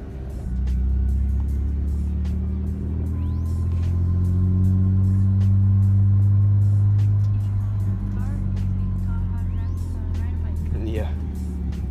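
A car engine with a manual stick shift steadily revs and rises in pitch as a learner gives it more gas, droning loud and close throughout while people talk over it.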